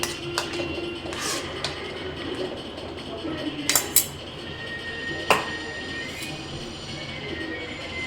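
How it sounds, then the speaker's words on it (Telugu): A ladle mashes lumps in a pot of simmering pindimiriyam batter, with intermittent metallic scrapes and clinks against the pot under ongoing talk. "జస్ట్ గరిటతో ఇట్లా మ్యాష్ చేసేసుకుంటే మొత్తం నీట్గా కలిసిపోతుంది"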